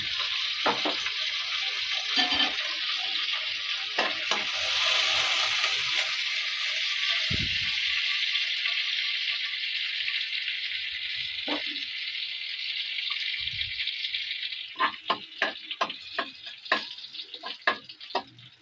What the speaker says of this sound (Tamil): இப்போ சட்டி வச்சு எண்ணெய் ஊற்றிட்டேன் நல்லெண்ணெய் இப்போ அது கூட கடுகு உளுந்த பருப்பு ஜீரகம் வெந்தயம் ஒரு வரமிளகா